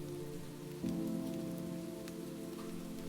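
Steady rain patters on a surface, a soft continuous hiss that thickens slightly partway through, with no talking.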